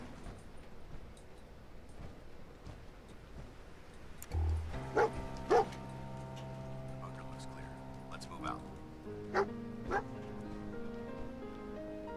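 Dog in the video game Fallout 4 giving a few short barks and whimpers spaced over several seconds, moderately loud over a low game ambience, with a player's voice talking.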